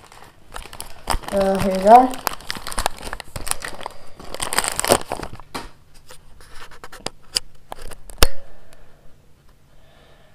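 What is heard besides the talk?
unwrapping wheels from their packaging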